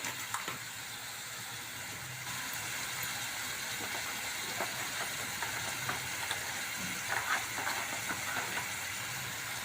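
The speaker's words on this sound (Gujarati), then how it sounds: "હળદર મીઠું નાખીને આપણે શાકને હલાવીને 5 મિનિટ તળવા દઈશું" Brinjal curry seasoned with turmeric and salt fries in a pan, making a soft, steady sizzle and hiss throughout, with a few faint clinks of stirring and no talk.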